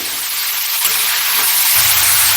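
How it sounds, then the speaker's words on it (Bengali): Radish pieces frying in a pan for a radish kachori filling, giving a steady broadband sizzle with faint stirring scrapes, a low rumble entering near the end. "বন্ধুরা এইভাবে কিন্তু মূলোটাকে আমাকে কিছুক্ষণ ভেজে নিতে হবে।"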